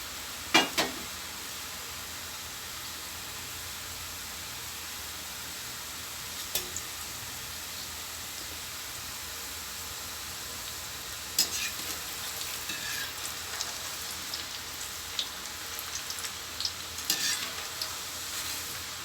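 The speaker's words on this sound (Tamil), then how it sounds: "கொஞ்சம் கொஞ்சமாக உருண்டைகளை தள்ளிக்கலாம் ஏன்னா வந்து மொத்தமாக கொட்டிட்டால் சலக்குன்னு எண்ணெய் தெரிக்கும்" Small balls of salted seedai rice dough deep-frying in hot oil, a faint steady bubbling hiss running throughout, with a few brief clinks and scattered louder crackles toward the end.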